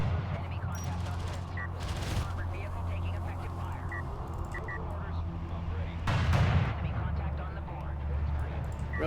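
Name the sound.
railgun fire in video game Homeworld: Deserts of Kharak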